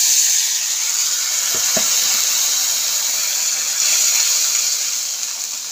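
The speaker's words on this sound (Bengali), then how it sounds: "পেঁয়াজটা একটু ভাজা ভাজা হয়ে এসছে, এর মধ্যে আমি দিয়ে দিলাম সামান্য একটু জল।" Frying onion in a pan hisses and sizzles steadily as a little water is added, with a broad close steam hiss that swells once midway, plus a couple of faint clinks and no talking.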